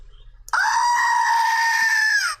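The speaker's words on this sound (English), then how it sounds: "a goat." A goat gives one loud, close, sustained bleat lasting nearly two seconds, heard alone after a short quiet moment.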